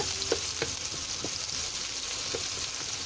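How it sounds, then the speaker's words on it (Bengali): Chopped onion fries in oil in a pan for a Bangladeshi-style poa fish dish, giving a soft, steady sizzle with a few sharp scrapes as it is stirred, heard close and fairly quiet, without voices. "পেঁয়াজ কুচি দিয়ে দিলাম। এখন একটু নেড়ে বাটা মশলাগুলো দিয়ে দেব।"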